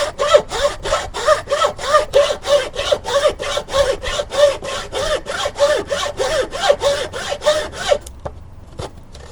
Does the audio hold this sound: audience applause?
no